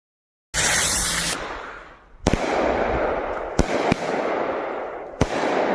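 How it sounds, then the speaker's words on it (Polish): New Year's Eve fireworks go off close by: a long hissing burst first, then several sharp loud bangs at irregular intervals over a continuous crackling roar. "ale te fajerwerki. No, już odpalam."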